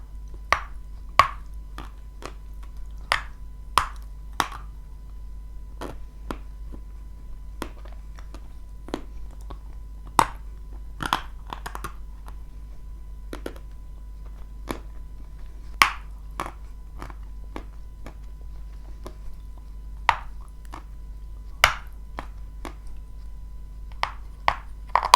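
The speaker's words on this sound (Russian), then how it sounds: "От толстых кусков откусывается очень сложно." Someone bites and chews thick pieces of brown Turkestan edible clay, making close, crisp, isolated cracks and crunches at irregular intervals over a low steady hum, with no talking.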